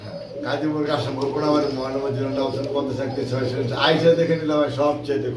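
Pigeons coo at a pigeon sale, soft repeated throaty coos close by, overlapping in a low rolling chorus.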